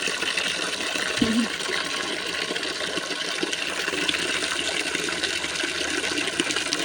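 Steady rushing water pours continuously, a broad even hiss with a brief low thump early on.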